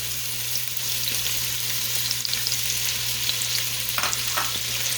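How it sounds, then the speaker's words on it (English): Small pieces of chopped onion sizzle and crackle steadily in a hot pan, a continuous frying hiss with faint stirring clicks and a low background hum, no voices. "You're going to hear it sizzling."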